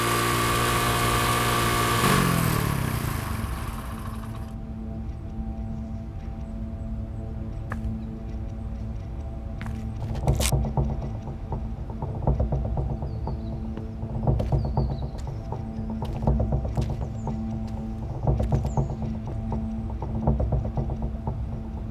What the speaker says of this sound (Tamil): உன் வண்டி இவ்வளவு சத்தமா உருமுது